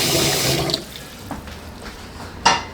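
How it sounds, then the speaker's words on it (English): Boiling hot water pours steadily into an indoor sink at first, then cuts off, followed by a few light clinks and a short final splash of water. "I got some boiling hot water over here."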